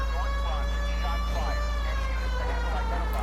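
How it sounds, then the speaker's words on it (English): A police car siren wails continuously in the video game L.A. Noire, loud and steady over heavy engine rumble, with a voice talking partly underneath. "this calls for the sirens"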